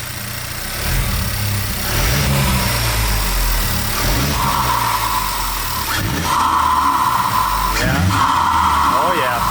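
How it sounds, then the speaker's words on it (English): A Honda Civic Type R FL5 with bolt-on turbo, exhaust and intake idles and then takes a couple of light revs, the engine rumbling close by with intermittent electronic beeping tones over it. "Give it a couple of light revs."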